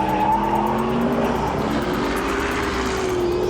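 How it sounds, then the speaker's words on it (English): A Noble M600 supercar drifts at about 110 mph, its engine roaring steadily while the tires squeal loudly and continuously throughout, close and dominant with no talk. "That was a 110-mile-an-hour drift."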